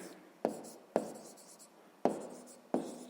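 A pen writes a math exercise answer on paper, four distinct close strokes with quiet pauses between them, alone without talk.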